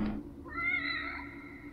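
A cat meows once, a short, close, clear call that rises and bends in pitch, heard alone over a low background hum.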